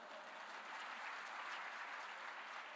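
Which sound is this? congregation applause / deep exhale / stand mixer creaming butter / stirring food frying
congregation applause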